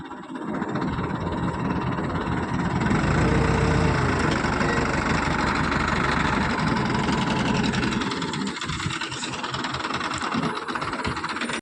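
A loaded four-ton truck's diesel engine runs steadily while reversing, a loud close rumble with a constant drone that swells slightly midway and then eases, with no talk over it.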